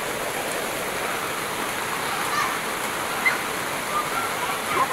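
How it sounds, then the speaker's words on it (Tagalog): Heavy rain pours down in a steady, dense roar of falling water, loud and continuous throughout, with a few faint voices barely audible beneath the downpour. "Lakas ng ulan dito."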